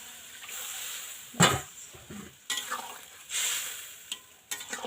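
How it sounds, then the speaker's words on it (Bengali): Water poured into a hot pan of sautéed green jackfruit curry, brief sizzling bursts as it hits the pan, then stirring scrapes and a second pour, close and moderately loud with no voices. "এবারে বন্ধুরা দিয়ে দেবো জল"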